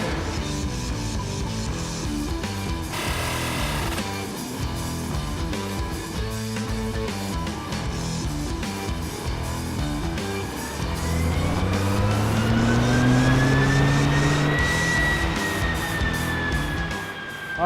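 Deep engine drone held steady, then a Ford F-150 EcoBoost truck on a dyno with a MagnaFlow performance exhaust revs up with a rising, throaty exhaust note that climbs and holds loud before easing off.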